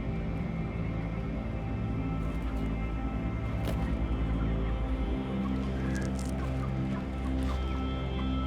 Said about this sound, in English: Oh, that poor little chicken.